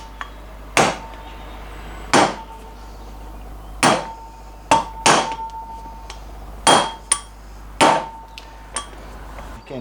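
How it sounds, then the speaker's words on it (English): A hammer taps a socket to seat a brake part on an MGB: about nine sharp, ringing metallic strikes at irregular intervals, close and loud over a low steady hum, with no talking. "you can hear how the hammer note changes as that locates"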